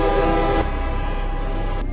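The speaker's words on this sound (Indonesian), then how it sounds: "ada kereta berikutnya yang akan lewat" A train passes close by, a loud steady rumble carrying a sustained horn-like tone for about two seconds, with no voices.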